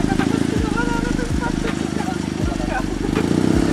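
A car engine revs with a loud, raspy, motorcycle-like growl, pulsing through several rising bursts while people talk over it, at a sport driving venue in Poznań.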